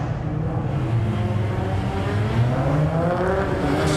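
GT3 and GT4 race cars surge away together at the flag drop of a handicap race at Hampton Downs, a steady, dense roar of engines climbing in pitch, fairly close and continuous, with no voices.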